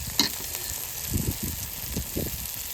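Spices sizzle in hot oil in a pan as Kashmiri chili powder goes in for a Bengali fish curry, a steady frying hiss broken by a sharp clink and several soft scraping stirs.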